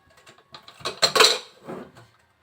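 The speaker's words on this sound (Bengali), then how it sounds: "তিনটা সিটি দেওয়ার পরে এখন আমরা প্রেসার কুকারের ঢাকনা খুলে ফেলবো।" Metal clatters as the lid of a pressure cooker holding mutton curry is opened after three whistles, a short burst of clanks and scraping knocks, close and fairly loud, then fading.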